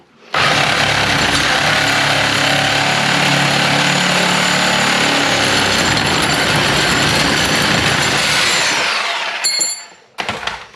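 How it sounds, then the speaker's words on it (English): A loud, continuous power-tool rattle, like an impact wrench, running for about nine seconds on the sway bar end link of a 1994 Chevrolet S10, close by, then cutting off with a few short bursts. "now that I've successfully removed the sway bar end link"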